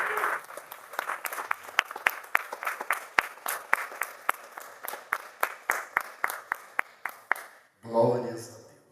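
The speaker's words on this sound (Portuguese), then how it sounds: "Aplauda o Senhor." A church congregation at a communion service claps in a steady, rhythmic burst of applause that fades out, followed by a brief voice.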